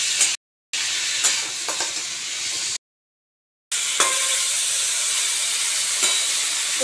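Figs and prawns sautéing in a pan over medium heat, a loud hissing sizzle with occasional stirring scrapes, broken by two short silent gaps.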